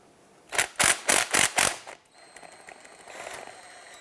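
A 15mm socket on a ratchet with swivel and extension works at a starter bolt on a 1999-2004 Jeep Grand Cherokee 4.7L V8: five quick, sharp clicking bursts close up, then faint fiddling.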